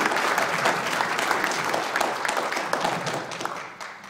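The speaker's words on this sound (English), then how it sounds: "Sheffield Friends of Kashmir, and a round of applause for Mr. Nabi." A room full of people claps in warm, continuous applause at a Friends of Kashmir gathering in Sheffield, the thick patter holding steady before thinning out and fading toward the end.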